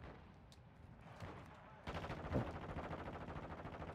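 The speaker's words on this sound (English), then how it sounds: "This guy just shooting from the rooftop." Bursts of gunfire from a rooftop shooter in Warzone 2.0 DMZ, quieter at first, then a louder sustained stretch of rapid shots with one sharp heavy crack in the middle.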